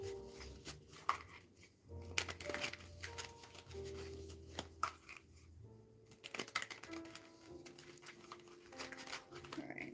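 A deck of small tarot cards is shuffled by hand, soft repeated riffling and patting close by, quiet and intermittent, with speech around it.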